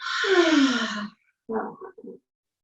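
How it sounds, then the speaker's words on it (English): A deep breath exhaled out through the mouth during a guided meditative yoga session: one long, breathy close exhale, then a brief pause and a couple of shorter, softer puffs. "take that one more big deep breath together. Inhale and exhale out the mouth"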